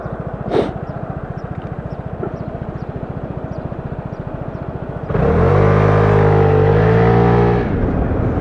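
A Piaggio Vespa 300 GTS scooter engine revs hard during a wheelie, a steady close idle-like drone that jumps into a loud sustained high-revving roar partway through.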